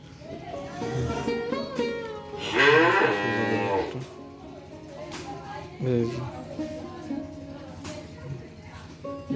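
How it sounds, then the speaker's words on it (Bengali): Cows on a village farm moo, one long loud low bellow in the middle and shorter calls later, mixed with people talking nearby. "মোট চারটা গরু"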